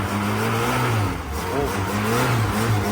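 Tofaş car engine running loud and steady with rising and falling revs, people talking over it close by.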